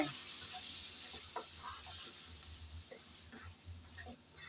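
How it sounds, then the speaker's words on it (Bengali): Chicken haleem with spices and salt is stirred and sautéed in a pan, giving a faint low sizzle under scattered soft scraping and tapping of a spoon. "এখন ভালোভাবে নেড়ে চেড়ে কষিয়ে নিতে হবে"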